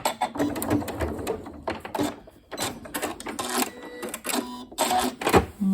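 A sewing machine runs in short bursts on a ghost-themed cushion, alternating back stitches with forward runs, each spurt of rapid mechanical clatter separated by brief pauses, close and fairly loud.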